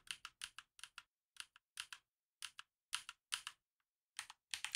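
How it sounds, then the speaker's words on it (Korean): Keys on a computer keyboard are pressed while editing code in Xcode, giving crisp, close keystrokes in quick bursts separated by short pauses, with nothing else in the background. "이거는 커맨드 Z를 눌러서 되돌리기 할게요."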